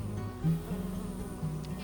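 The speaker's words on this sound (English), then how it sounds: "The largest of the banded Amegilla to visit my garden is the beautiful teddy bear bee, Amegilla bombiformis." A teddy bear bee, a large hairy golden-brown banded native Australian bee, buzzing among garden flowers: a steady low drone with a brief louder swell as it passes close.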